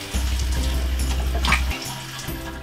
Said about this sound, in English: Water is drained and now we're going to rinse.